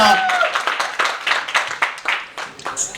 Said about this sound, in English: wish a huge round of applause